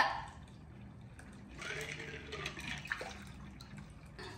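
Ginger beer poured into a Grinch cocktail, a soft fizzing splash of liquid that swells midway through and trails off, close by, with no talking over it.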